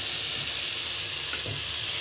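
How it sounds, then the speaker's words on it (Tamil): Brinjal and spices sauté in a pan in a village kitchen, giving a steady, close sizzle with faint stirring scrapes throughout. "நல்லா வதங்கட்டும்."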